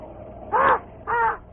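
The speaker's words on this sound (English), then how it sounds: "And that raven." A raven gives two loud, harsh caws close by, each about a quarter second long, separated by a short pause against a quiet background in a radio drama.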